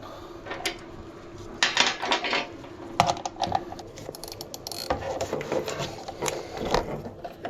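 Ratchet with an 8mm socket turning a left-hand-thread nut on the fan motor of a first-generation Volvo XC60 D5, giving irregular bursts of close mechanical clicking and ratcheting with short pauses between.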